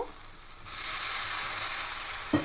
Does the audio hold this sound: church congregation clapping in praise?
no